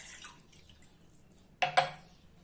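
Water is poured into a metal kitchen vessel for lemon kashayam: a short splash of two quick bursts, close and clear, after near silence.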